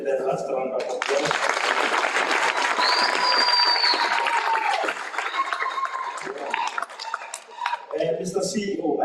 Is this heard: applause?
yes